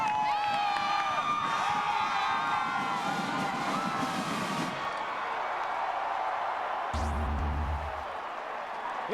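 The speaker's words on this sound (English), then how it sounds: "This crowd again is electrified. And I mean, they are making some noise." A packed stadium crowd at a 2004 Oklahoma versus Texas A&M college football game roars in a loud continuous wash, swelling and fading, with a brief low rumble near the end.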